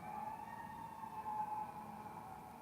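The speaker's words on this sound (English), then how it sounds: "the sirens in the background" A distant wailing siren sustains a steady tone over a low background rumble, with no voices present.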